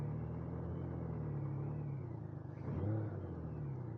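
A 1993 Honda Goldwing motorcycle fitted with a car tire cruises steadily, its engine a smooth low rumble with rolling road noise and a brief swell of revving near the end.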